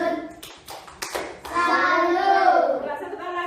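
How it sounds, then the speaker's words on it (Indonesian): A group of children performs the rhythmic 'tepuk salut' salute clap for a trainer group, with several sharp clap bursts followed by voices chanting together close by. "Ulang, beri lagi tepuk salut untuk kelompok pelatih."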